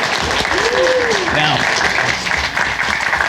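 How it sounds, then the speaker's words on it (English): An audience applauds a promotion announcement at a show, dense steady clapping throughout with a voice speaking over it near the start. "Clap it up for him."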